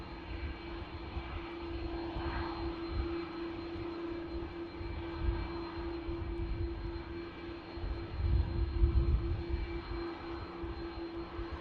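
An Aer Lingus Airbus A330 taxiing out at Manchester Airport, its engines holding a steady, moderately distant hum with a low rumble that swells briefly near the end.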